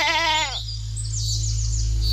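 A cartoon goat gives one wavering, strongly pulsed bleat over a steady music bed, followed by bright chiming effects in a Hindi animated story.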